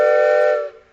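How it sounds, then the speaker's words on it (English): A single blast from a five-chime wooden train whistle sounds loud and close as a rich multi-tone chord, holding steady before cutting off sharply after about two-thirds of a second. "This one is a 5 chime wooden whistle."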